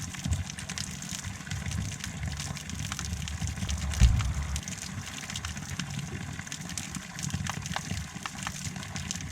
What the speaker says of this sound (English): I'm just filling up my canteen.